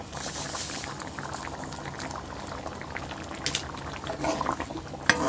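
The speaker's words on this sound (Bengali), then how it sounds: "মাছের মুড়ো দিয়ে মুগ ডাল হয়ে গিয়েছে প্রায় ফুটছে খুব ভালো মতো" Moong dal cooked with a fish head bubbles at a steady boil in a pot, a dense close-up churning with scattered pops and slightly louder bursts toward the end, no voices.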